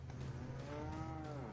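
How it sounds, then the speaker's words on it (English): Cows low in a farm area of the video game Resident Evil 4, one drawn-out moo rising and falling over a steady low hum, fairly close and clear with no talking. "Should I slaughter these cows?"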